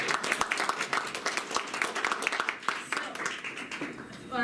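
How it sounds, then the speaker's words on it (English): An audience applauds in a lecture hall at an in-person university atmospheric sciences colloquium, a steady, moderately close patter of many hands clapping across the whole moment, with faint murmuring mixed in. "Let's give that a round of applause."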